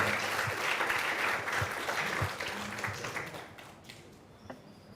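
Students at a school constitution event in Pucallpa applaud with sustained, dense clapping that fades toward the end, with a few faint voices mixed in.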